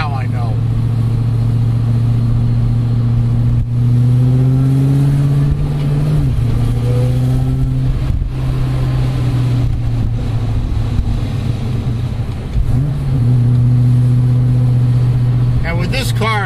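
A Saleen Terminator Mustang drives along a coastal road, its engine droning steadily close by, rising briefly in pitch as it accelerates, while someone talks over the engine throughout.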